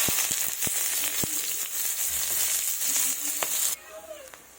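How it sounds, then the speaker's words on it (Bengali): Chopped onions sizzle in hot oil in a wok, being fried for a fish curry with cauliflower, tomato and potato. A loud, steady frying hiss runs with a few sharp utensil clicks, then cuts off abruptly near the end. "এবার এগুলোকে লাল লাল করে ভেজে নেব পেঁয়াজটাকে"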